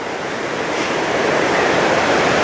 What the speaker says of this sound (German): ich höre schon das Getöse von dem nächsten Wasserfall